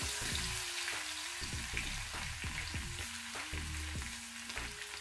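Steady crackling sizzle of spices and coarsely crushed garlic frying in hot oil, close and continuous, with a low clattering of a pan or utensil under it.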